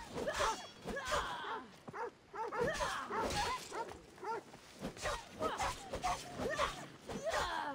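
A dog in Assassin's Creed Odyssey, near an abandoned house, gives a string of rapid barks and yips mixed with whimpers. The sounds come in uneven bursts at moderate distance.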